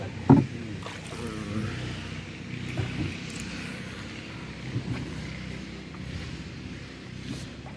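A boat engine drones steadily on the Sangu River near Remakri and Thanchi, a low continuous hum with a brief bump near the start and faint water noise.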